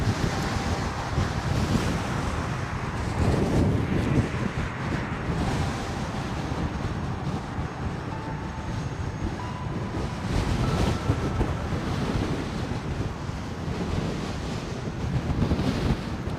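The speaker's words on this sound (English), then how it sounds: "Now for the short but very windy remainder of the ride." Heavy, constant wind buffets the microphone with a loud low roar and rushing gusts throughout, recorded while riding a KingSong 18XL electric unicycle on a road at speed, with faint high motor whine and no talking.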